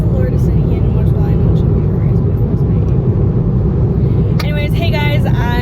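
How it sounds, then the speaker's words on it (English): Steady engine and road rumble from inside a car on the way south toward SeaTac, a constant loud drone throughout, with a short burst of voice near the end. "You're gonna be driving with me for an hour."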